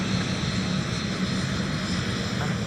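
An airliner takes off at MSP airport with a broad, steady engine roar that holds evenly throughout at a moderate distance, and no voices are heard.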